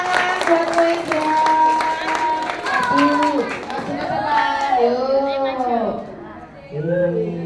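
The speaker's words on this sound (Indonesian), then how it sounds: "kita beri tepuk tangan buat Moiza" Primary school children in an Indonesian classroom clap in rhythm for a classmate, the claps mixed with their chanting voices that rise and fall in a sing-song pattern before fading out.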